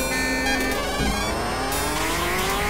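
Race car engine revs and tire squeal from the arcade top-down racer Badlands, loud and continuous, with rising engine pitches layered over busy game music.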